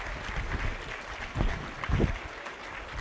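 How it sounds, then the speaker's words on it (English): Warm audience applause for honorees at a Behavioral Health Professional of the Year awards event, a steady moderate wash of clapping with a few louder bursts, heard from some distance in a large room. "let's give all of our honorees another warm round of applause"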